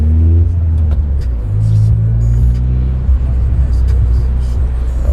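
A Honda Prelude, freshly fitted with a new crank position sensor, drives along with a loud interior engine drone and rumble that rises in pitch as it accelerates, heard steadily from inside the cabin.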